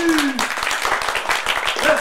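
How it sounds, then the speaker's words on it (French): A small crowd of people claps in a quick, uneven rhythm, the hand claps sounding close and distinct while someone talks over them. "Betty nous applaudit"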